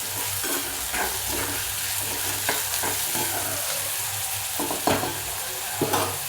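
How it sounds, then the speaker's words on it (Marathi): Chopped ridge gourd and dal stir-fry in a hot pan, giving a steady close sizzle broken by repeated scraping strokes of a spoon, with no talking. "डाळ पण याच्यासोबत परतायला टाकायची."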